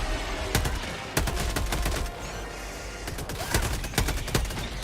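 A gun turret firing in a video game, rapid sharp shots in loud irregular bursts over a dense roar of battle noise, close and continuous.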